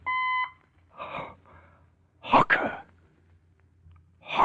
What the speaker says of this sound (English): At the tone, the time will be 10, 9, and 40 seconds.